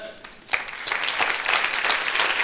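Church congregation applauding, a burst of clapping that starts abruptly and holds steady and dense.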